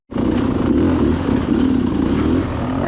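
Enduro motorcycle engine revving hard on a muddy hill climb over wet tree roots, a loud, close, continuous rasping drone with slight surges, alone without talk.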